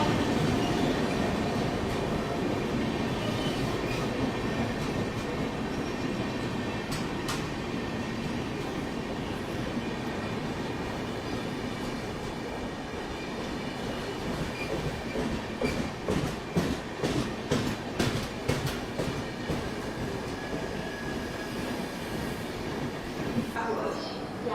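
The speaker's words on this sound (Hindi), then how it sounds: "ये आ गई सिकंदराबाद यानी कि हैदराबाद से शालीमार को आने वाली एक्सप्रेस ट्रेन, वेब 7 लोकोमोटिव के साथ" An express train hauled by a WAP-7 electric locomotive from the Santragachi shed rolls into a station, a steady heavy rumble with rhythmic clickety-clack of wheels over rail joints growing clearer toward the end, with a voice talking over it.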